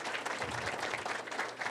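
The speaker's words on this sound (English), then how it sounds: "Give them a round of applause, please." Brief applause from an audience at a chamber of commerce legislative breakfast, a dense patter of many hands clapping at moderate distance, steady through the short span.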